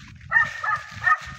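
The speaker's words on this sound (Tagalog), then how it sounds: "may aso." A dog barks a few times close by, short rough yelps with a brief pause between the last two.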